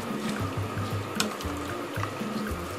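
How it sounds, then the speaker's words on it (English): Boiled water from a kettle is poured into a pot of rice, giving a close, continuous gurgling trickle with small splashes and bubbling. "add boiled water from the kettle"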